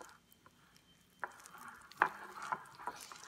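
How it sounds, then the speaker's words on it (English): Wooden chopstick stirring sourdough starter in a bowl during feeding, giving a few soft, close wet squelches and scrapes, quiet at first then louder from the middle on. "I like to use a chopstick because it's not metal. So I'm stirring it up."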